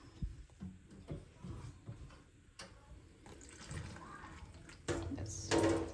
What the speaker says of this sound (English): So luckily we have this nice little tap here which helps us with water